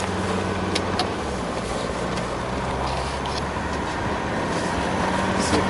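A Mercedes car driving in first gear, its engine a steady low rumble throughout, with continuous road and wind noise and a few faint clicks on top.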